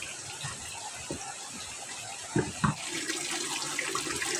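Steady tap water runs into a sink, with a few soft knocks and splashes as something is handled under the stream.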